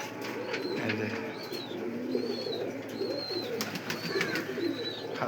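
Pigeons in a fancy pigeon farm with wire cages coo in repeated low rolling calls close by, with a few brief higher chirps and light rustling around them.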